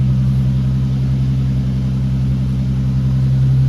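Car engine idles high and steady after a cam angle sensor swap, a loud, close, even drone with a constant pitch and no misfire, with no voices.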